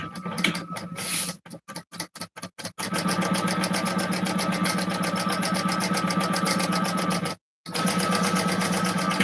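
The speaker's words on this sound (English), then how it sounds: "And then we're going to stitch across that at 1/4 of an inch seam allowance." A sewing machine stitches a quarter-inch seam on a wallet. It starts with a few short stop-and-go bursts, then runs in a long steady whir with one brief pause near the end.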